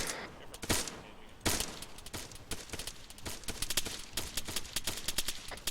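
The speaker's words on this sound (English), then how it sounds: "I'm hearing gunshots come from the southwest side." Gunfire during a Marine platoon training exercise rings out in repeated sharp cracks and short bursts from a distance, irregular and echoing across the range, with faint voices between shots.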